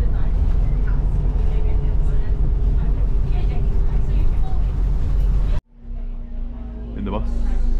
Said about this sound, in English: In the bus, on the way.